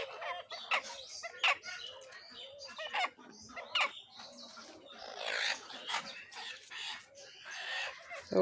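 Native desi chickens of mixed colours clucking and calling in a busy, overlapping chorus, close and fairly loud, with occasional sharper squawks and no speech.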